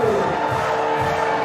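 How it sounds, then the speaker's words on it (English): Spectators cheering for a climber at a women's bouldering final in Prague, a broad sustained roar of crowd noise with shouts and whoops mixed in, loud and steady for the whole short stretch. "And the crowd is going wild again."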